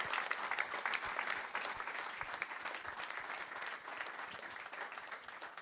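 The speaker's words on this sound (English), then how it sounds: "Round of applause for Jan Tops, president and founder" Steady applause from an audience at an equestrian team press conference honors the president and founder, a continuous patter of many hands at modest volume lasting several seconds with no one speaking.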